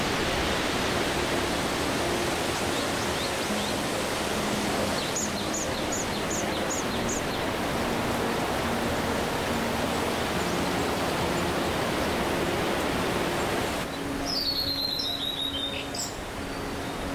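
Water flows continuously in a natural setting away from the city, a steady broad rush with a few bird chirps breaking through now and then, no voices.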